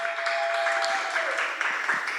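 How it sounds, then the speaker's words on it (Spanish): A church congregation applauds together, a steady wash of clapping at moderate distance for a couple of seconds, with a brief sustained vocal tone over it. "Démosle un aplauso al Señor."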